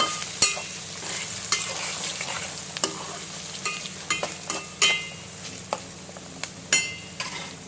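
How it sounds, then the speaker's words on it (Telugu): Onions fry in a pan for mutton curry, a constant close sizzle broken by repeated sharp scrapes and clinks of a spoon stirring against the metal, irregular and loud over the hiss. "ఆనియన్స్ చూడండి వేగుతున్నాయి."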